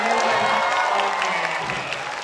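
Applause from a crowd of new students at a university welcome event, a steady dense clatter of clapping filling the whole moment, with faint voices mixed in underneath.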